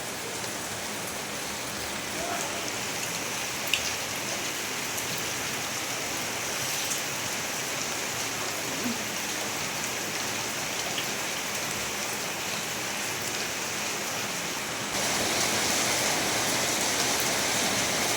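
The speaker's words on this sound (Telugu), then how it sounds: "వర్షం పడుతుందన్నమాట" Steady rain falling and pattering on surfaces, a dense, even wash of sound that stays constant throughout and grows slightly louder toward the end.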